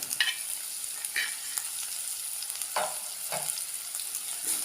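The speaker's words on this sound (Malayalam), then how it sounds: "ഉള്ളിയും വെളുത്തുള്ളിയും ഇഞ്ചിയൊക്കെ നന്നായിട്ട് വഴറ്റി കിട്ടിയിട്ടുണ്ട്" Onion, garlic, ginger, green chilies and curry leaves sautéing in a pan for a vala fish curry, a steady soft sizzle with several sharper scrapes and stirs of a spoon, close and moderately quiet, no talking.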